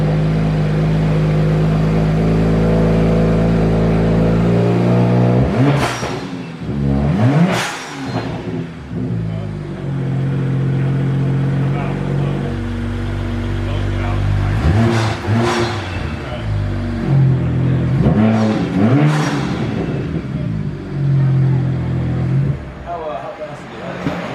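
BMW 1M engine revving under way, rising and falling through several sharp bursts of acceleration inside the cabin, with people talking excitedly over the steady drone.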